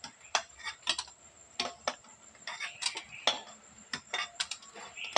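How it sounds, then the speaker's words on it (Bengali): Boiled eggs go one by one into a bowl of cold water, giving a series of sharp, close clinks and taps against the bowl in an uneven rhythm, with soft water sloshes between them. "ঠান্ডা জলের মধ্যে ডিমগুলো তুলে নেব।"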